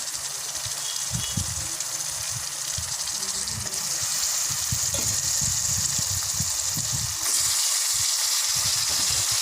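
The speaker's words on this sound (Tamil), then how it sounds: "உப்பு தேவையான அளவு சேர்த்துக்கலாம். நல்லா வதங்கட்டும்." Onions sauté with salt in a pan for Tamil-style chicken gravy, a continuous hiss punctuated by repeated low thumps and scrapes as the mixture is stirred, growing slightly brighter toward the end.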